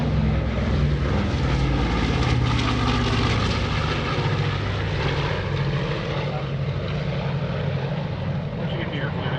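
A Boeing B-29 Superfortress flies overhead at a World War II weekend air show, its propeller engines droning loud and steady throughout, with voices faintly beneath the roar.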